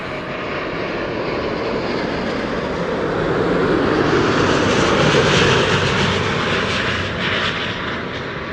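Qatar Airways Airbus A350 inbound from Doha on arrival at Amsterdam Schiphol, a loud, steady jet engine roar that swells to a peak midway and eases slightly as the airliner passes close by, with no talk.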